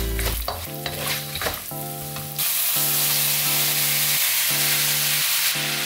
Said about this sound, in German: Auch Asafoetida-Pulver sollte in Öl angebraten werden, damit sich sein lauchartiges Aroma entfaltet.